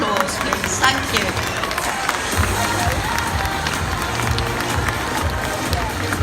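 Audience applause and cheering from a large indoor crowd at Crufts dog show as young puppies around six or seven months old leave the ring after a display, steady clapping with crowd murmur throughout.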